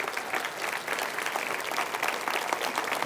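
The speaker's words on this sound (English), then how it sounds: "let's celebrate that with a round of applause" A round of applause from the audience at a gathering, a steady wash of many hands clapping at even loudness throughout, somewhat distant, with faint voices underneath.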